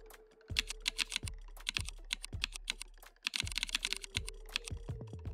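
Crisp, clacky keystrokes tap out in quick irregular bursts, each with a low thump, like an old typewriter-style keyboard, close and isolated with no voices.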